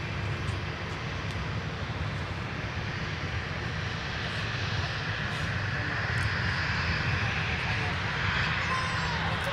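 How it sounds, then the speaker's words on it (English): A Delta airliner bound for Albuquerque passes over the airport, a broad steady engine roar that holds at a fairly even level throughout, with faint voices underneath. "Here's Delta 730 passing through the frame, headed to Albuquerque, New Mexico"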